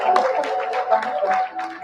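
Clapping from an audience at a business summit greets the next speaker, a marketing country manager, with a short burst of close, irregular hand claps mixed with a voice.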